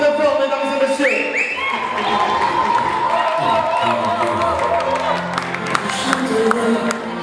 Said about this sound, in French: merci d'applaudir très très fort, mesdames et messieurs.